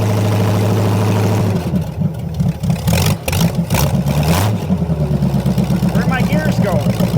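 An old Buick Nailhead engine in a vintage dragster thunders close by, revving in bursts with sharp throttle blips before settling into a steady, choppy, loping idle.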